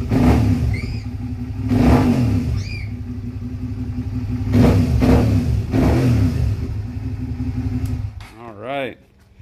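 Motorcycle engine with a freshly replaced spark plug revving in several strong surges, front cylinder firing, loud and close, the last rev rising sharply before dropping away.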